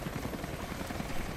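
Helicopter in the video game Rise of the Tomb Raider on PS4 Pro, a continuous rotor thrum with soft rhythmic pulsing that holds steady throughout, with no speech.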